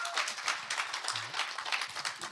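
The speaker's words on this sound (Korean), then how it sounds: "박수로 환영하겠습니다" A church congregation applauds to welcome a pastor, producing a dense, fairly quiet wash of clapping throughout with a brief low voice partway in.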